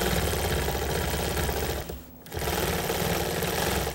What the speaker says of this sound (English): I'm going to take little stitches across where I've already stitched in the ditch